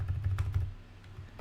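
Quick, light clicking of keys on a computer keyboard, a rapid burst of typing that slows toward the end, close and fairly quiet with no voices.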